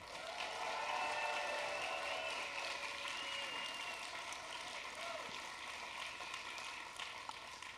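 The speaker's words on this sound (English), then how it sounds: "one loud round of applause for our sponsors" A crowd at an outdoor community event gives the sponsors a long round of applause, a sustained, fairly distant roar of clapping that holds steady throughout.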